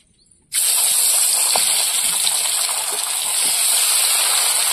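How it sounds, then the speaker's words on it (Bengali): Japanese puti fish fry in very hot oil, starting after a brief quiet moment with an abrupt, loud, steady hiss and sizzle that holds at full strength to the end, with a few crackles and pops. "কড়া গরম হয়ে গেছে, মাছগুলো ভেজে নেব। তেল দিয়ে দিচ্ছি।"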